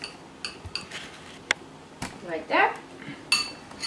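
A spoon clinks and scrapes against a pot while parsley sauce is mixed smooth, several sharp metallic taps and a brief scraping swirl up close, with a short spoken phrase.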